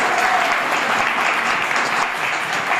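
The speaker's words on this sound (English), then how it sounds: "can we give the MC a huge round of applause?" An audience applauds for an MC at a stand-up comedy show, a loud, even roar of clapping close and unbroken from start to finish.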